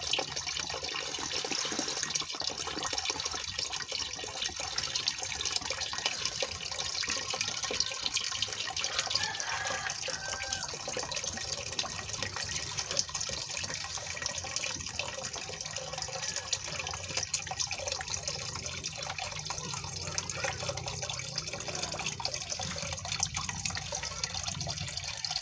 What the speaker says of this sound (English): I'm subtle with the pouring of the water so that the fishes won't get